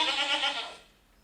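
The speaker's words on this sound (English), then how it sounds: "So, it's a goat." A single goat bleat, close and moderately loud, trails off quickly into near silence.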